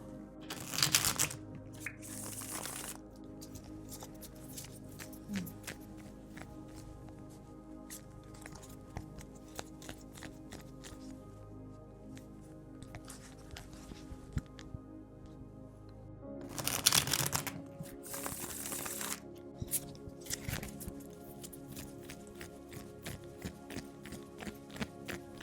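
A deck of cards is shuffled by hand for a card-of-the-day pull, with two crisp riffling bursts near the start and again midway and quiet handling taps in between, close and otherwise silent.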